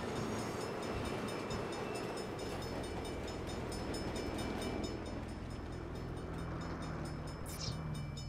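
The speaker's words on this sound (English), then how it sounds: "Crap. Bad time for a train." A passing train rumbles in the Saints Row video game, a steady, loud rolling roar with rail clatter holding through the whole stretch and a brief high squeal near the end.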